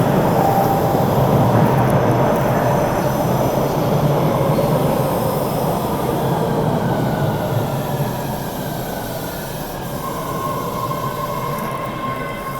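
Steady subway train rumble from a background ambience app, with a continuous broadband roar of rail car and wheels, a faint wheel squeal and tonal whine rising late, loud and unbroken with no one talking.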